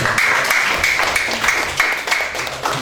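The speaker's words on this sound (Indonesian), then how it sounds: "Ya, tepuk tangan Bapak Ibu." Audience clapping in a school teachers' gathering, a steady burst of applause from many hands with brief swells, fairly close and filling the room.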